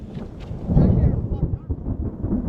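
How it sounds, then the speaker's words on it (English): A deep, continuous rumble of thunder rolls loudly over steady rain at a campsite in Gulf Shores, Alabama, swelling in the middle and lingering without fading. "So this rain and thunder, I mean, it's lightning really bad."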